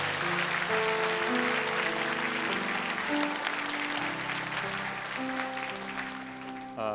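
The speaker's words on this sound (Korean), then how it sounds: "우리 박수로 한번 격려해 주셨으면 좋겠습니다" A church congregation claps to encourage singers after a hymn at a Korean Sunday worship service in Irvine; dense, steady applause fills the room under sustained music, fading slightly toward the end.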